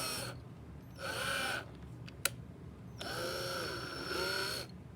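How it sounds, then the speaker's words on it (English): A power drill bores a hole through a plastic bottle in two loud whirring bursts, one short and one longer, with a sharp click between them and no talk. "you're just going to drill it through and bring it back out"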